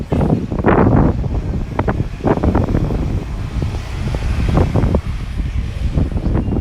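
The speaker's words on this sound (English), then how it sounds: "Comes that wind again." Wind buffets the microphone on a spring street walk in Uptown, Chicago, loud and gusty throughout, with passing road traffic rumbling underneath.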